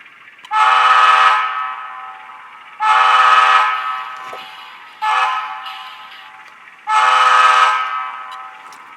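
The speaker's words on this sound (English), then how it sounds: "The railroad crossing horn sequence," A Bachmann RS-3 model diesel locomotive with a TCS WOW sound decoder sounds its railroad crossing horn sequence: four loud, close horn blasts, two long, one short, then one long, with a steady motor hum between them.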